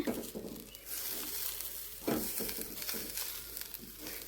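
Beetroot thoran with grated coconut being stirred in a pan, giving soft scraping strokes and a light crackle that repeat unevenly, close and fairly quiet, with no talking.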